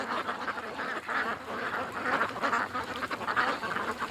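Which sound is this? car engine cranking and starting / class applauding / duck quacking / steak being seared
duck quacking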